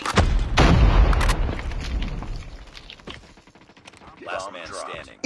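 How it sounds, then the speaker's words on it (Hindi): A grenade detonates in the Call of Duty video game with a loud, booming burst near the start, followed by scattered gunfire and clattering effects that fade, then pick up again. "जैद ग्रेनेड कर रहा है"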